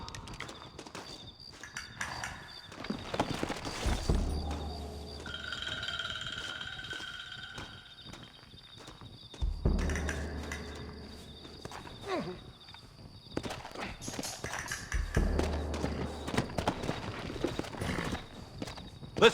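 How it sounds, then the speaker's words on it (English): Horse hooves clip-clop in bursts of galloping in the PC game Red Dead Redemption 2, fading in and out across the clip, with game-style ambient tones and effects in the background. "Looks like Carlos left us some horses."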